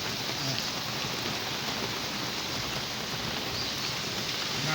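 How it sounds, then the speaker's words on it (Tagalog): Heavy rain pours down steadily as a dense, constant hiss of drops on surfaces, loud and unbroken throughout. "Grabe yung ulan, oh."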